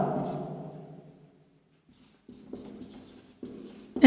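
Chalk tapping and scratching on a classroom board during a grammar lesson, a few short bursts of strokes separated by pauses, close by, following a fading resonant thud.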